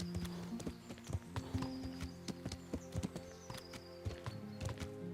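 A horse galloping in Kingdom Come: Deliverance, with a fast, steady clip-clop of hooves. Brief snorts of heavy breathing sit over the hoofbeats, with a faint whinny-like tone in the background.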